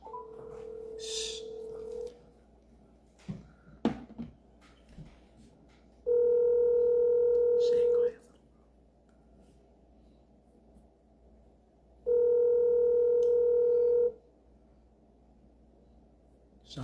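A telephone ringback tone sounds twice, each a steady two-second electronic burr separated by about four seconds of silence, with faint rustling and a brief whispered hush earlier in the call.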